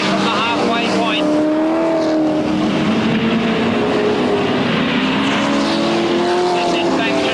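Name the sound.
super sedan race cars on track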